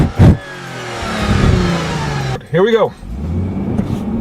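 A 2013 Lexus GS 350 in sport mode pulls hard from a standstill, the engine note climbing loud and close, with a sharp upshift near red line around 6,500 RPM, under a man's brief remark.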